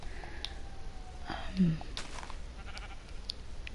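A short bleating sheep call sounds once near the middle in a Minecraft-style video game, set against a busy low background of game noise.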